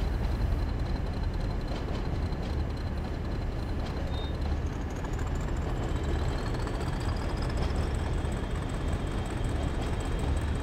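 Train passing in the opposite direction in Train Sim World 2, a steady rumbling roar of wheels on track with rising whining tones, continuous and moderately loud.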